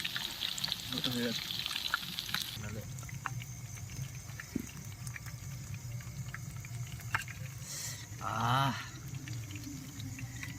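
Chicken pakora frying in hot oil at an outdoor winter campsite gives a steady low sizzle throughout, with occasional stirring clinks and a brief swell of voices near the end.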